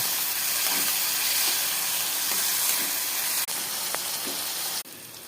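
Ground spices frying in oil for a sweet, sour and fiery chili pickle give a steady, close hiss, with a few faint stirring taps before the sound cuts off abruptly near the end.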